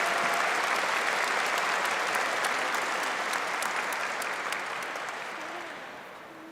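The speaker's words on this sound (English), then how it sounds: "Please give a round of applause for all of our graduates with a PhD in Business Administration." Audience applause for PhD in Business Administration graduates at a university commencement ceremony: a broad, steady wash of clapping that gradually fades over the last couple of seconds.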